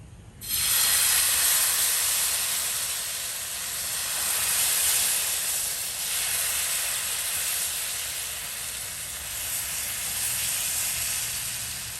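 Dosa batter poured onto a hot pan with coconut oil bursts into a loud, sudden sizzle that settles into a steady, close hiss and crackle lasting throughout, with no talking.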